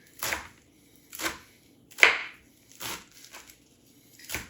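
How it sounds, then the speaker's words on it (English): Kale wadded into a bunch is roughly chopped with a knife on a board, five or six crisp, separate cuts about a second apart, close and clear with quiet gaps between strokes. "I like to try to kind of wad my kale up a little bit and then just kind of run my knife through it"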